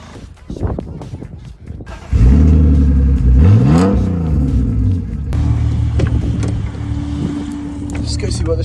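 A BMW drift car bursts into loud, close acceleration, its engine revving up and down in strong sweeping pulls before settling into a steady, rough drone; a few quieter noises come just before the engine roars in.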